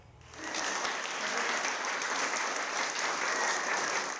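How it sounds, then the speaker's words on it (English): A crowd applauds steadily at the celebration of a finished tile mosaic mural in North Creek, New York, marking the opening of an art exhibit; the clapping swells in quickly and holds as a dense, even roar of many hands. "Applause and heartfelt words marked the end of the tile mural creation and the opening of an art exhibit."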